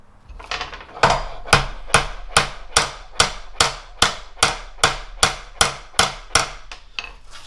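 Hammer blows on metal as it is shaped over a form, a steady series of about fifteen sharp, evenly spaced strikes, close and loud, ringing briefly after each hit, with no talking.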